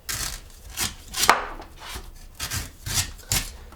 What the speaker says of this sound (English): you find the point of the coconut, and you just start shaving away some of this husk